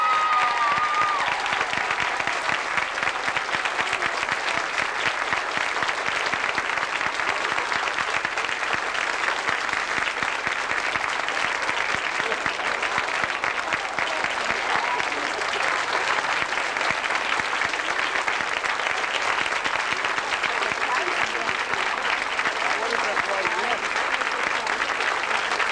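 Long, steady applause from a theatre audience honours a helper at the end of an amateur players' show, a dense, continuous crackle of many hands clapping with faint crowd voices mixed beneath.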